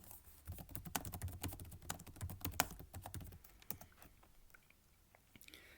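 Rapid, uneven keystrokes on a computer keyboard while typing Python code, dense clattering bursts at first and thinning to sparser taps, close and fairly quiet with no talking.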